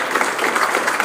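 Congregation applause during a church service, a dense and even burst of clapping from many hands filling the space, loud and continuous.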